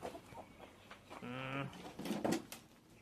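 Chickens clucking nearby in a backyard coop or egg-laying shed, a short run of throaty repeated clucks rising in the middle, with someone talking over and around them.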